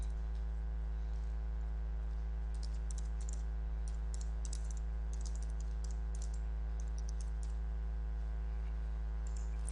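Someone types a link on a computer keyboard while editing a WordPress post: scattered, quick key clicks come in bursts, close and fairly quiet, over a steady electrical hum.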